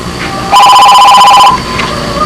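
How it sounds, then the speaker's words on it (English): A telephone rings loudly for about one second, a steady warbling electronic trill that starts and stops abruptly over faint room noise. "I think we'll answer the phone."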